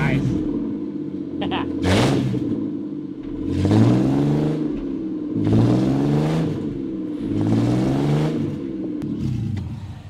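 A car engine revs in repeated rising surges, close and loud, while the clutch and transmission are tested, and voices talk over it throughout.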